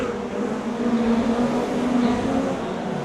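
New Zealand modified race cars roar around a speedway track during a race, a loud sustained engine drone under a commentator's voice.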